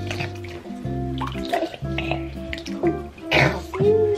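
Water splashing in a baby's bath, with drips and sloshing heard close up under a steady mix of tones and occasional voices.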